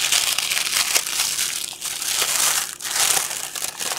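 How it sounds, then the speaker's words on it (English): Crumpled packaging from Christmas washi tape crinkles loudly and continuously up close, with crackling, crushing bursts and brief dips, and no talk. "I left the crinkling in for those of us who love crinkling."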